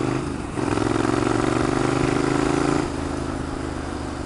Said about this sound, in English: I got the Triumph with the Arrow exhaust